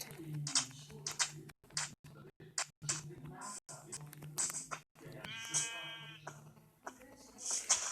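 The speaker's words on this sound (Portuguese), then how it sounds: "Nasceu uma ovelha preta aqui do nada." Sheep bleating in several short calls at close range on a farm, with people talking over and between the bleats.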